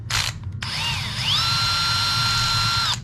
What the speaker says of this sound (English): We're going to start out by taking out the bottom bolt for the shock here